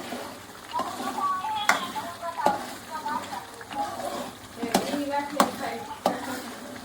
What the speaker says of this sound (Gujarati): સિંગ ભજીયા નાખીને આપણે હલાવી દઈએ